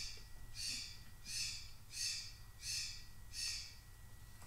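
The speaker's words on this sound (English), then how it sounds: "this bird's so damn loud" Pet bird squawking loudly indoors: five harsh, evenly spaced calls in a steady rhythm over faint background hum, no talking.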